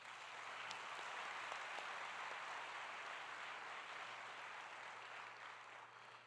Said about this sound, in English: Please help me in giving them a warm round of applause.